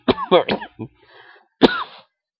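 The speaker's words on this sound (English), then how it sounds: "now that I'm back from my deathly coughing spell" A burst of several harsh coughs in quick succession, then a pause and one more loud cough trailing off, close and clear.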